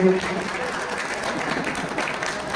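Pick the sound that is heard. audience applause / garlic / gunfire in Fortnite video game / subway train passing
audience applause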